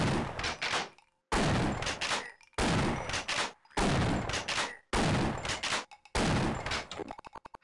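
Repeated bursts of gunfire in the video game Half-Life, about six loud, dense volleys separated by brief silences, ending in a rapid staccato rattle.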